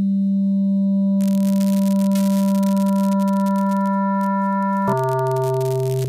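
Two pure sine-wave oscillators in the Nightlife VSTi software synth sustain a steady tone that grows a bright fringe of sidebands, then shifts abruptly to a new stacked pitch near the end, heard alone without speech.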